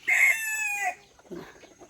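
A bantam rooster gives a shrill, close crow, followed by a few soft clucks.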